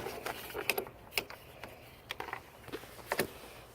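A car battery terminal connection is tightened in an auto shop, sounding as a scattered series of close, sharp metallic clicks and ratcheting ticks at an uneven pace, with no talk.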